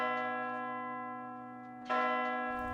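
A church bell rings with a long, ringing, sustained tone that fades slowly, then a second strike sounds near the end, clear and resonant.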